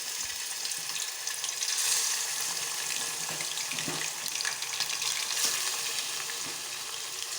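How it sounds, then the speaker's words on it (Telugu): Chicken frying in hot oil for a Telugu chicken chutney, a continuous close sizzle and hiss with faint clatter, no talking. "చికెన్ దీంట్లో వేయించుకోవాలి."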